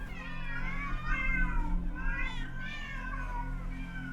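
Several cats meow and caterwaul in long, wavering cries, one after another, in the horror adventure game The Excavation of Hob's Barrow, clear and fairly close with no talk over them.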